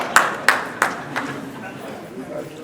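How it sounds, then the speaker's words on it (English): A gathering at a real estate event gives a brief round of applause, heard as a few sharp, evenly spaced claps that quickly fade into soft room noise. "A round of applause for yourselves and for Majesty."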